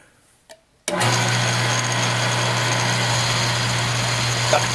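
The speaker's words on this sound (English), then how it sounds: "I extended the drill out a little further. I think I can get through most of the way." A drill boring deep through material on a CNC machine build kicks in after a brief click and runs as a loud, steady, close mechanical whine and hum, with no talk.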